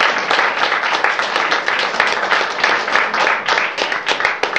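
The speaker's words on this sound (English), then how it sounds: "let's give them a round of applause." Lecture-hall audience at a literary lecture and reading claps steadily for several seconds, a dense, even patter of many hands with no voices standing out.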